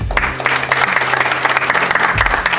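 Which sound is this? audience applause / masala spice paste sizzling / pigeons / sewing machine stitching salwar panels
audience applause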